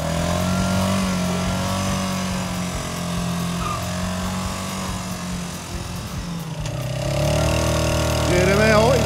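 A KAYO 200 quad bike pulling a small trailer runs with a steady mid-pitched engine drone, then revs up louder near the end as it drives off, with some talk over it.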